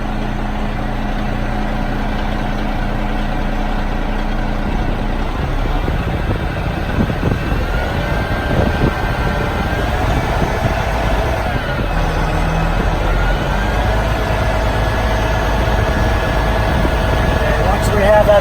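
A truck engine holding about 1,050 RPM to drive the hydraulic pump of a bulk feed trailer wet kit, a loud, steady close-up drone whose pitch shifts a little partway through.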